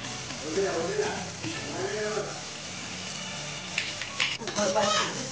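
A spoon stirs spiced vegetable filling for bread rolls in a hot pan, soft scraping and sizzling heard under a woman's ongoing speech, with a few sharper scrapes near the end.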